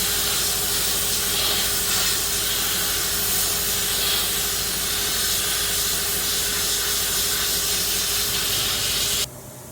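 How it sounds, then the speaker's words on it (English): A dry ice blaster cleaning the engine bay of a K24-powered AWD EK sedan sends out a loud, constant hiss of rushing air up close, running steadily until it cuts off abruptly near the end. "dry ice blaster."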